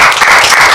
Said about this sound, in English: Can I clap for it?